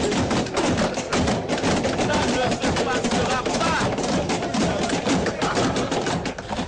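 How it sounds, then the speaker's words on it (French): Parliament deputies in a national assembly chamber pound very hard on their tables, making a loud, dense, continuous clatter of overlapping thuds and knocks that never lets up, with a crowd din and voices mixed underneath. "Des députés frappent très fort la table."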